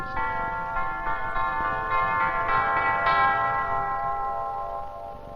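Orchestral tubular chimes struck in a slow sequence of bright, sustained metallic tones that ring and overlap, close and clear, with no voices.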